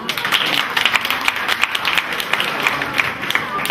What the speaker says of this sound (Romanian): Domnul Fulgur, să-l aplaudăm cu drag.